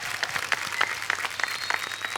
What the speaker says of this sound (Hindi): हमारे कीकू जी, इनके लिए जोरदार तालियां।